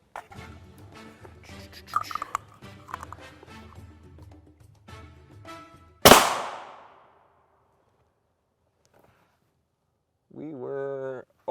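A single sharp, loud rifle shot from a 24-inch TC Compass in 300 Winchester Magnum fitted with a Yankee Hill Phantom M2, ringing briefly outdoors, with someone talking before it and another voice after a pause.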